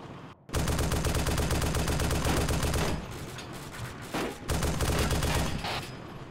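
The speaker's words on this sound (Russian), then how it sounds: "АГС по нему работает" An AGS automatic grenade launcher fires in ArmA 2, a loud, steady stream of rapid thumping shots with a few brief breaks, close and dominant with no talk over it.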